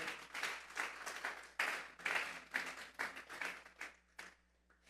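A church congregation claps together in bursts of applause that swell and fade over a few seconds before thinning out near the end, moderately close with no talking.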